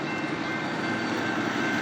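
A BNSF intermodal stack freight train rolls past at close range, a steady, loud rumble and rush of wheels on rails with no pauses or talk.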